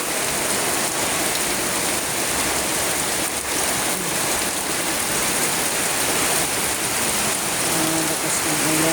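Torrential typhoon rain drums without pause, a thick, close, constant wash of noise that stays loud throughout, with a faint tonal sound near the end and no clear speech.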